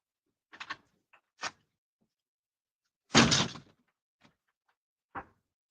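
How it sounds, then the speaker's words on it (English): Door sounds during an attempt to get in a side door: a few short knocks and thunks, then a longer loud rattling bang at the door, followed by a couple of faint taps, with no talking. "Trying to get into the side door."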